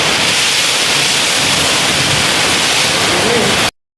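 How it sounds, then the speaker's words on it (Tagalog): Heavy rain pours with gusting wind in a steady, loud, dense hiss that holds unbroken before cutting off abruptly, with no talk over it. "grabe talagang ulan, ang lakas, lalo siyang lumakas talaga, pati yung hangin"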